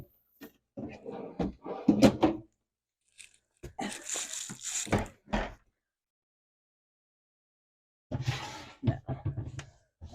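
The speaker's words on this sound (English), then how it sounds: "you just take the drawer out, put it back in, make sure your guides are lined up" A drawer in a Montana RV kitchen is slid out and pushed back in along its guides, giving bursts of rattling, scraping and knocking with quiet pauses between them.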